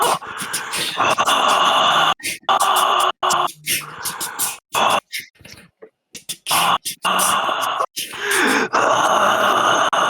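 A voices a drawn-out, strained imitation of the screaming from the game Deadly Premonition, loud and close, breaking into several bursts with brief silent gaps between them.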